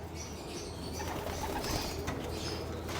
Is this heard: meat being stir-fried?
no